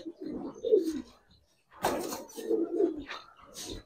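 Close Giribaz silver pigeons give throaty, rolling coos in two bouts separated by a short pause, with a few sharper flutters or scuffs and no talking.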